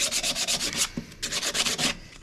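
Sanding a chamfer onto the edge of wooden table stock with 80 grit paper, two bursts of fast, close rasping strokes separated by a short pause.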